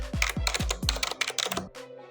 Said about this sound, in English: So I'm going to type open source.